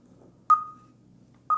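Home alarm system keypad beeping a countdown after a door opens: two clear, single electronic beeps about a second apart, the first trailing off, in a quiet room.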